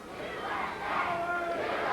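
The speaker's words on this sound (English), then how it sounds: "the crowd, of course, chanting USA" A wrestling arena crowd at a 1985 Portland Wrestling event chants in unison, a dense roar of voices swelling steadily, with an announcer's voice faintly mixed in.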